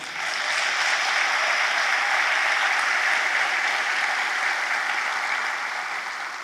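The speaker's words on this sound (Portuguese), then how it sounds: "Agora vocês devem se aplaudir." A lecture audience in a large hall applauds themselves at a motivational talk, a broad, steady wash of many hands clapping that rises quickly and holds at an even level throughout.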